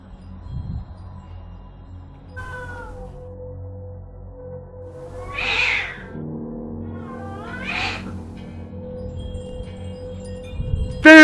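Cats meow and caterwaul in a scene from the 1987 film The Lost Boys, with two loud, drawn-out yowls in the middle and a softer meow earlier, over a quiet, steady hum.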